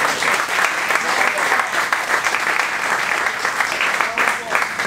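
Sustained applause from a crowd at a light rock fishing competition, steady and dense clapping filling the whole stretch without pause.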